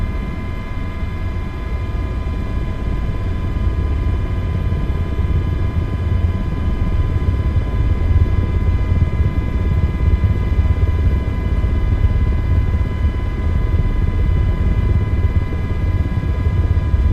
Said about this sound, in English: I don't think I've ever had to taxi a helicopter to a runway.